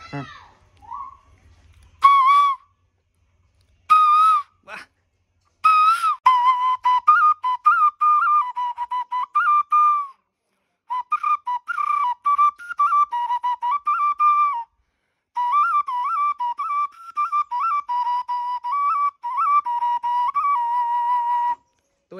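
A homemade pepa hornpipe imitates the call of the koel bird: a few short separate blasts, then long warbling, trilling phrases broken by brief pauses, loud and close.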